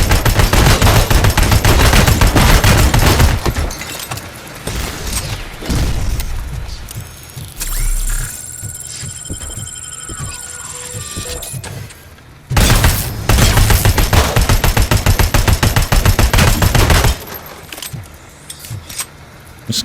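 Heavy automatic gunfire and booming blasts from the RoboCop Rogue City video game, loud and dense in two long bursts with a quieter mechanical stretch between them.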